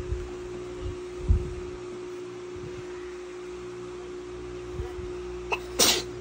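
A sharp, close sneeze bursts out near the end, with a smaller sound earlier, all over a steady electrical hum.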